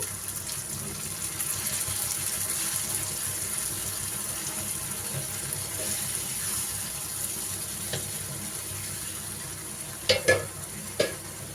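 Tamarind-leaf fish curry is stirred in a pan, a steady low simmering bubble and hiss with a few sharp scraping clatters of the spoon near the end.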